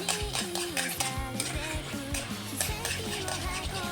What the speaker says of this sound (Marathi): साखर आणि ह्याला आणखीन थोडा वेळ हलवून घेऊया